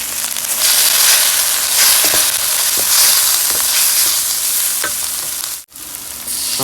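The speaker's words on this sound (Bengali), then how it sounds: "আমি এখন দিয়ে দেবো গুঁড়ো মশলা" Fried onion, ginger-garlic paste and ground spices sizzle loudly in a pan. A dense, close frying hiss runs throughout with occasional stirring clicks and a brief dip near the end, no speech.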